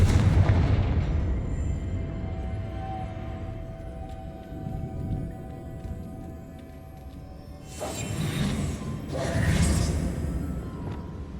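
Magical blasting spells from Hogwarts Legacy boom and roar close by, a heavy explosion opening the stretch, then a long rumbling tail followed by two more whooshing blasts later on.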